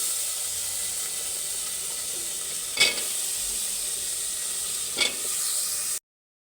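Vegetables sizzle in hot oil with turmeric, chili, salt and onion, a steady close frying hiss broken by two brief utensil clatters before stopping abruptly.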